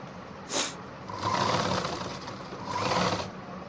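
A sewing machine stitches elastic into the waistband of ladies' pants in two short runs separated by a pause, with a faint click just before the first.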